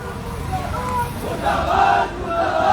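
Student protesters from NSUI gather at the MDS University gate, their voices merging into a loud crowd chant and shouting that swells and recedes in waves, with traffic noise in the background.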